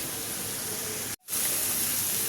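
Onion masala sautés in oil for a Bengali prawn malai curry: a loud, steady sizzling hiss that cuts out for an instant midway, then resumes.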